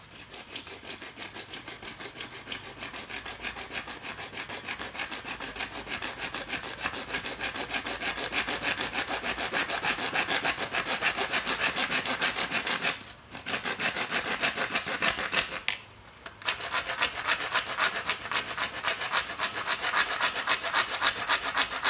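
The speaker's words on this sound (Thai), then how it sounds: "ใบเลื่อยเนี่ยครับ ตัด" A hand saw rasps steadily back and forth through wood in fast, even strokes, close and continuous, with two brief pauses.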